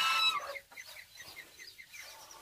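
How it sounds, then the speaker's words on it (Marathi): A brooding hen sitting on eggs on a farm gives soft, repeated low clucks, close and quiet, after a brief louder burst at the start. "ही कोंबडी इथे उबवणी बसलेली आहे"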